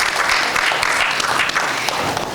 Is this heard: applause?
yes